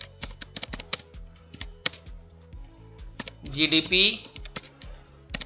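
Quick bursts of keystrokes on a computer keyboard while entering text in a spreadsheet, crisp and close, with someone speaking between and over the clacks.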